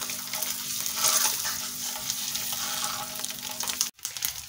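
Eggs sizzle and fry steadily in a pan for egg curry, a continuous close crackle with light scraping as they are turned, ending with a sharp clack near the end.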